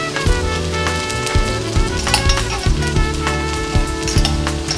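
Onions and peppers sizzle and fry in a pan as a steady crackling hiss, with repeated clicks and knocks of a utensil stirring through the sizzle; no talking.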